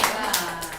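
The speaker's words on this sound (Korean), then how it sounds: "박수." Children clap together in a brief, fairly quiet burst of scattered handclaps at an indoor gathering.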